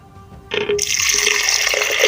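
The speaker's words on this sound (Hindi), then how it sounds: "अब इसमें आपने पानी का एक गिलास जो है वो इसमें डाल देना है।" A glass of water is poured into a blender jug holding mint leaves, starting with a brief splash and then turning into a steady, loud gushing fill that runs to the end.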